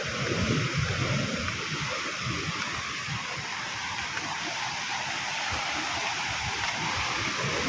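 Strong waves crash and churn against a provincial shoreline strewn with dead corals, a loud, continuous roar of surf with no break and no talk.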